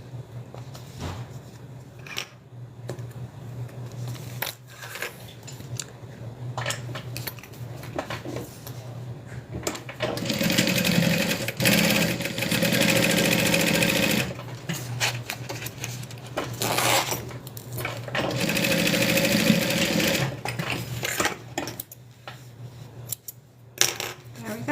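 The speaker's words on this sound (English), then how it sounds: "we're going to sew the other interior lining" Sewing machine stitching the interior lining of a wristlet, starting with scattered clicks and handling noise before two longer whirring runs of stitching, close, steady and moderately loud, with no talk.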